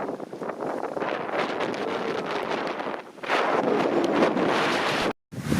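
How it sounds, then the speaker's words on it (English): Strong wind gusts roar across the microphone at a campsite in Ontario during a massive thunderstorm with rain starting, a loud buffeting rush that swells sharply partway through and briefly drops out near the end. "That was probably a 70-kilometre gust, maybe 80. Almost blew me off my feet."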